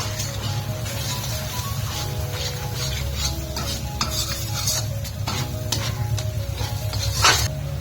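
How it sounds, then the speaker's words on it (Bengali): A spoon stirs spices and chopped tomato in a hot pan for vegetarian bhuna khichuri, with continuous close sizzling, scraping strokes and occasional clinks of utensil against metal throughout. "সমস্ত মশলা ভালো করে মিশিয়ে নিয়ে এর মধ্যে দিয়ে দিচ্ছি টমেটো কুচি"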